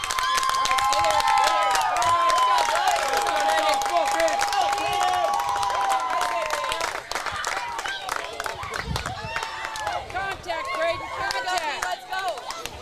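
Crowd at a championship-Sunday baseball game in Minster, Ohio, roaring after a deep hit off the fence, loud sustained cheering with whistles and a commentator talking over it, fading slightly after a few seconds.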